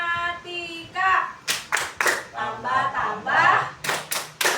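Children in a maths class clap in rhythmic patterns in time with a chanted song, sharp, loud claps falling in quick groups between stretches of singing voices.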